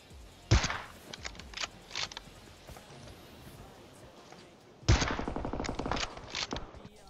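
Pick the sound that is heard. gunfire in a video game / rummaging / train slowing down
gunfire in a video game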